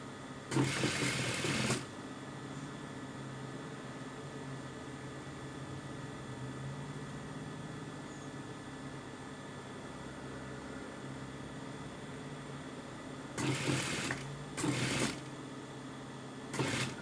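Sewing machine stitching along a stretched, sagging fabric hem, with loud bursts of motor whir at the start and again near the end over a steady background hum.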